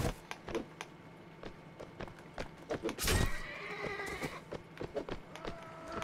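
Horses in the battle game Mount & Blade: Warband give loud, shrill neighs over a steady patter of galloping hooves. A sharp burst of clashing impact noise cuts in midway.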